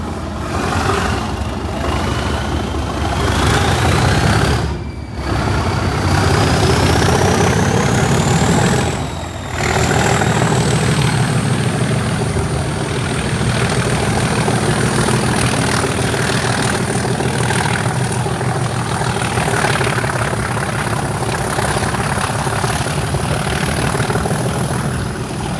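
Class 37 diesel locomotive 37075 working hard as it departs a station on a heritage railway in winter, a loud sustained engine roar with a rising whine, briefly dipping twice before settling into a steady thrash.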